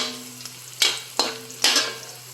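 Ginger and garlic sauté in a pan over a soft sizzle, broken by three sharp scraping stirs close by.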